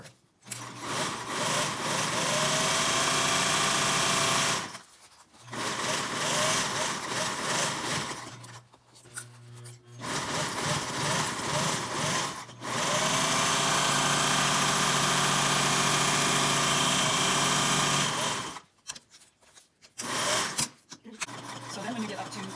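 Sewing machine running in long continuous bursts while stitching a mask made from surgical tray wrap, loud and close with brief pauses between seams.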